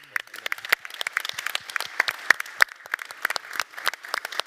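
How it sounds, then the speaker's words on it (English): An audience at a live conference show breaks into steady, fairly faint applause, many hands clapping in a dense, continuous patter with no voices standing out. "big round of applause to all."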